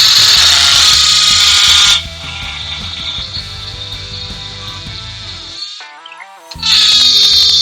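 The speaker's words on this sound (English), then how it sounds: "take the hammer drill, 3/16 Tapcon bit, and we're just going to drill through about every couple of feet and attach it" Hammer drill fitted with a 3/16 Tapcon bit boring through foam board in a crawlspace, a loud steady high whine that drops in pitch mid-run, stops briefly and then restarts at full speed.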